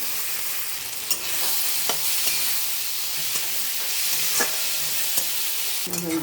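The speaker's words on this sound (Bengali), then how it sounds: "আলুটা ভাজা ভাজা হয়ে গেছে।" Steady sizzling of potatoes frying in a pan with spices, a continuous crackling hiss with occasional soft stirring clatters, close and fairly loud.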